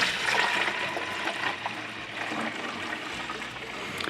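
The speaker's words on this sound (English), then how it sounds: "I'm gonna go ahead and pour this into the keg, carefully, but let you see it." Sweetened tea at 78 degrees is poured into a kombucha brewing keg on an iGulu F1 home brewing system, a steady, close splashing stream of liquid with no talking.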